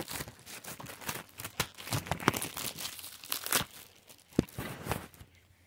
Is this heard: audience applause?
no